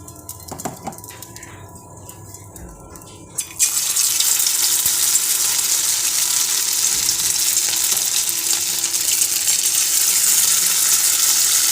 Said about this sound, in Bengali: এবার ম্যারিনেট করা চিকেনটা এক এক করে দিয়ে ভাজাবো তেল দিয়ে দিই সাদা তেল